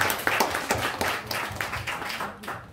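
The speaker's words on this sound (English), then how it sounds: "Give her a round of applause." A small audience at a Feast of Tabernacles church gathering gives a scattered round of applause, with distinct individual claps rising and falling fairly quietly over a couple of seconds.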